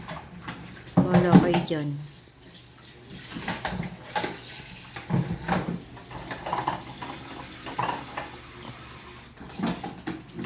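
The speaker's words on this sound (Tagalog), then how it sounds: "Inunahan na naman ako maghugas ng plato." Dishwashing at a kitchen sink, with clattering plates and splashing water running under a voice and nearby chatter throughout.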